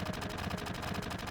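Rapid, evenly spaced gunshots from Final Fantasy VII on Nintendo Switch rattle steadily for a moment, a dense mechanical stutter of repeated shots at constant loudness with no talking.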